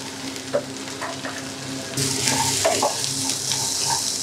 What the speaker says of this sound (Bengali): এটা আমি হালকা 2-3 মিনিট ভেজে নিব।